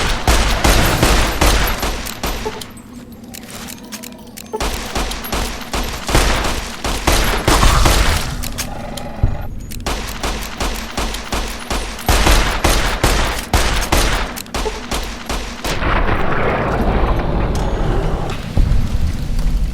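Rapid bursts of gunfire from the video game Fallout: New Vegas ring out loud and close, repeated volleys of shots with brief lulls between them across the whole stretch, with no voices.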